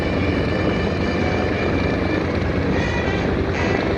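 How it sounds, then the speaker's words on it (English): A propeller airplane built by North American Aviation makes a pass at the 2024 Greater Binghamton Airshow, a loud, steady engine-and-propeller roar that fills all four seconds without letting up. "You can really hear the propeller on that pass."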